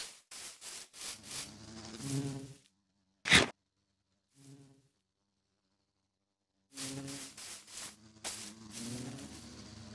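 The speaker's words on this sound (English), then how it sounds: "Another beautiful bee for Honeycomb Hollow." A bee in a video game buzzes in short bursts, then stops with a long near-silent gap, and buzzes again in a rapid flurry of bursts.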